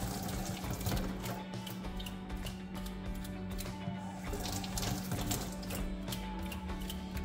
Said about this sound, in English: I'm gonna rinse out all of that carb cleaner.